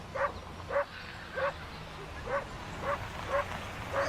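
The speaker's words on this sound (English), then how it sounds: "Whole lot of yapping going on over there" A dog yaps repeatedly at steady intervals of roughly half a second, a run of sharp, high yips at moderate distance with no other sound, heard near a neighbor's field.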